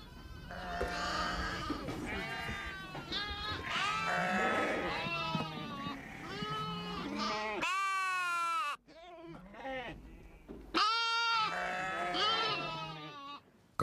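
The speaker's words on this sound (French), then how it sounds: "Quand tous les agneaux sont rassasiés, Ali et Hussein rentrent les bêtes." Sheep and lambs bleating over and over in a Moroccan Atlas mountain setting, many overlapping calls near and loud, with a few brief pauses between bursts.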